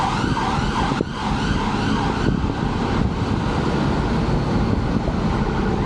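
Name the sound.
ambulance siren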